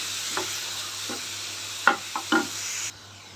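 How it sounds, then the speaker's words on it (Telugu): Grated carrot being stirred and fried in ghee for carrot halwa, a steady soft sizzle broken by a few sharp spatula scrapes near the end, close and fairly quiet with no talking. "ఇందులోనే వేసి వేపేసుకున్నాము"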